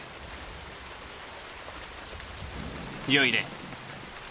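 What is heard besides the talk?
rain falling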